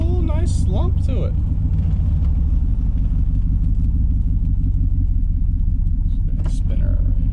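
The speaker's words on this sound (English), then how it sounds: "it is raspy and it's definitely a cut exhaust" A 5.7 V8 with a true dual muffler-delete exhaust idles with a loud, raspy, lumpy rumble close by, steady throughout, with brief speech at the start and end.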